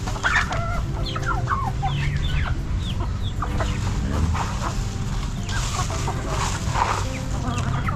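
A flock of free-roaming chickens being fed, with a rooster among them, clucking and chattering in overlapping bursts close by, a busy continuous farmyard chorus with no talk.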